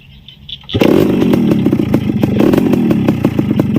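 A Yamaha RXK motorcycle engine fires up after a quiet moment and runs at close range, a loud, rapid two-stroke-like putter with uneven revving pulses, heard alone without voices.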